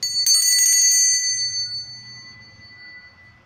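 A small bell is struck once to mark the start of a card reading, giving a bright metallic ding that rings out clearly and decays over about a second, alone and close.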